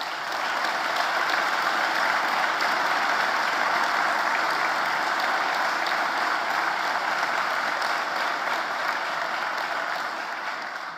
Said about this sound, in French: je voudrais qu'on vous applaudisse pour vous remercier de votre investissement